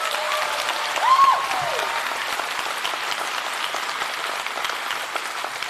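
Applause rolls steadily through a hall at the 2025 Ockham New Zealand Book Awards ceremony, with dense, even clapping that stays fairly loud throughout and one brief high whistle near the start.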